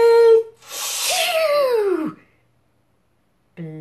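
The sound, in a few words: voice imitating an enormous sneeze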